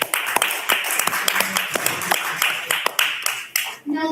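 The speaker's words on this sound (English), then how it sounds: "A round of applause for our quiz masters." An audience at a neuroscience education conference applauds its quiz masters, a dense run of close, rapid hand claps with a few voices mixed in, tapering off at the end.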